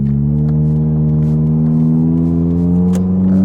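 A Japanese sedan engine, either a Toyota Altezza or a Honda Accord, drones loudly at low RPM from inside the car, a steady hum whose pitch climbs slowly as it pulls, with no talk over it.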